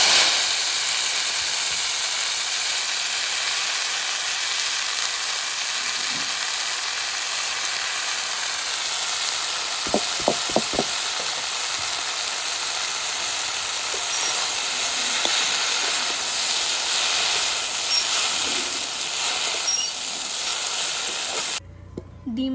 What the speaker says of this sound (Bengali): শাকটা দিয়ে দিচ্ছি তেলের মধ্যে।